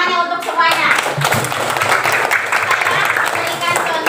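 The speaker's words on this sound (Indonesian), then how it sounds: "Tepuk tangannya untuk semuanya." Fourth-grade pupils clap together in a classroom, a dense, lively burst of applause mixed with children's voices calling out throughout.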